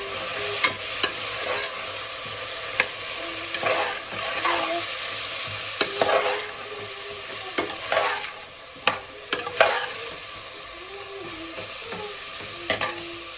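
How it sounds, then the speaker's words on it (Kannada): Cabbage, beans and carrots stir-frying lightly in oil for a vegetable pulao, a steady low sizzle broken by frequent scraping and clacking of the stirring spoon against the pan, close and clear. "ಇದ್ರ ಜೊತೆ ಎಣ್ಣೆನಲ್ಲೇ ಇದನ್ನು ಸಹ ಲೈಟಾಗಿ ಫ್ರೈ ಮಾಡ್ಕೊಳ್ತಾ ಇದ್ದೀನಿ"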